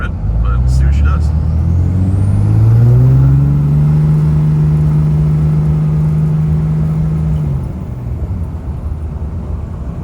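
A Cummins 5.9 common rail diesel engine runs steadily while the truck is driven, its low drone rising as it accelerates, holding a steady pitch, then easing off near the end, loud and close with no speech.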